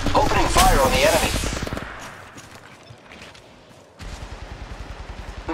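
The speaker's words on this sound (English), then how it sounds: "Opening fire on the enemy." Rapid automatic gunfire in the mobile shooter Apex Legends Mobile rattles in a steady burst after a voice line and a quieter pause, loud and close.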